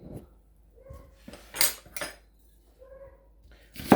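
A kitchen knife chops onion and garlic on a cutting board for Chinese pepper steak, giving a few sharp, close knocks separated by short pauses, with light clinks of utensils in between.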